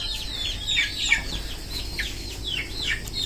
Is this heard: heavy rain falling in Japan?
no